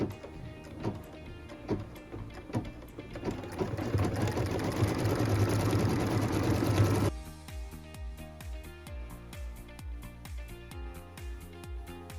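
A sewing machine quilts a wall hanging in a steady run of rapid stitching, then stops, with lighter mechanical clicks and taps carrying on afterward. No one speaks.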